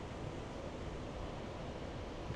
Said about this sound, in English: It seems like it's raining outside in Bangkok.